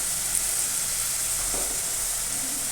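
Turmeric powder and onions sauté in a pan, giving a steady broadband sizzle with a brief stir or scrape near the middle.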